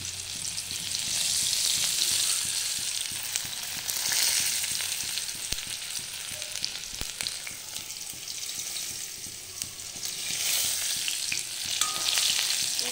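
Whole bay leaf, onion and cumin sizzle steadily in hot oil in a kadai, a continuous close frying hiss with occasional stirring scrapes, no voices.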